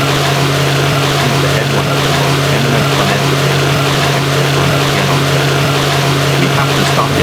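A motorboat engine from the video game The House of the Dead 2 drones loudly and continuously, a steady hum and rumble with a constant tone that never lets up, with no voices.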